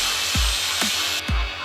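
A grinder cuts a protective cover for an installation, with a steady high-pitched whine and three sharp downward-sweeping bursts as the blade bites, loud and close.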